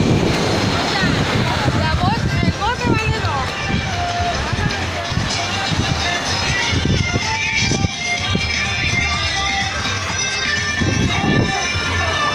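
Sea waves and a strong current at a beach in Cancún, Quintana Roo, make a continuous rushing wash close by, mixed with wind buffeting the microphone while a person talks over it.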